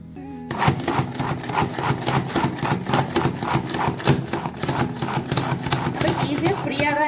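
A hand-operated food chopper is pressed over and over in a kitchen. Rapid, rhythmic clacking and rattling strokes continue steadily under a person's talk.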